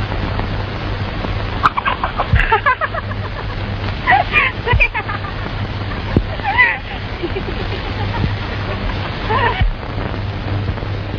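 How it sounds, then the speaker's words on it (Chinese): An old hen clucks in bursts in a scene from a 1942 Shanghai film, the calls mixed with voices talking over a dull, band-limited soundtrack. "打来这只老母鸡"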